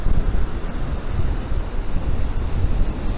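Ocean waves break at sea cliffs on the Mornington Peninsula, heard as a loud continuous surf roar with heavy wind buffeting the microphone throughout.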